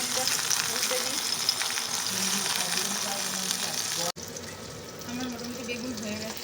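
Eggplant slices fry in oil in a pan with a loud continuous sizzle that cuts off abruptly, then resumes more softly with a person talking over it.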